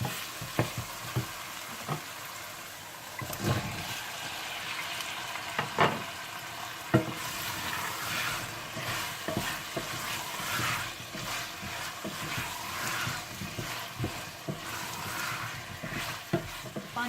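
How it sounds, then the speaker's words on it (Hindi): Potatoes frying and being stirred in a spice masala, a steady sizzle with scattered clicks and scrapes of a spoon against the pan throughout, continuous and close with no talking. "जब मसाला अच्छा सा भुन जाए तो आप इसमें आलू डालकर भून लें"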